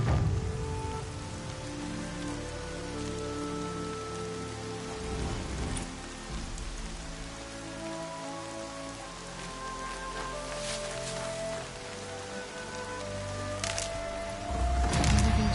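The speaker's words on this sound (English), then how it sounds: "Everything's sharp and neat in the rain." Steady rain patters on surfaces in the game Horizon Zero Dawn, a continuous close wash of droplets under a soft musical bed, with a few sharper splashes and cracks standing out near the end.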